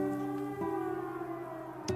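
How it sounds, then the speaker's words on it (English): A steady electronic siren wails from a watchtower in the video game The Legend of Heroes: Trails into Reverie, holding a sustained harmonic tone that shifts pitch partway through, alone with no talk. "It sounds like a siren, and it's coming from the watchtower."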